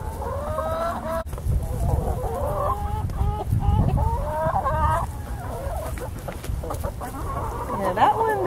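New Hampshire Red hens cluck and murmur close by in a backyard flock, a steady run of overlapping calls with a few louder squawks near the end.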